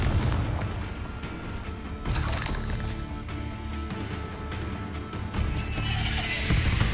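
Fiery Confringo spell blasts in Hogwarts Legacy, several booming bursts and crackling pops spread across a busy combat mix, moderately loud and with no talking.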